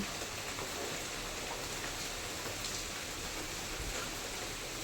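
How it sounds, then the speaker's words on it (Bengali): Steady, dense rain falls in the aftermath of Cyclone Remal while light storm winds still blow, a continuous close hiss of drops on surfaces with no pauses and no voices. "বৃষ্টি তো হচ্ছে।"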